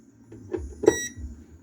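A single short electronic beep from a mini washing machine that will not start sounds close by, surrounded by faint handling noise.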